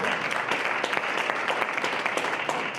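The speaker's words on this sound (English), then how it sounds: "Can we give them a round of applause?" A panel discussion audience at an SMME business roadshow claps for the panelists, a steady, moderately faint patter of many hands with no voices over it.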